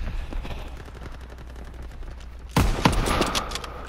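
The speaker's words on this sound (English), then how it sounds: "I'm actually panic shooting you a little" Gunfire in the World War II shooter Call of Duty: WWII, with a fast run of faint rapid shots followed by a sudden, much louder close burst of firing near the end.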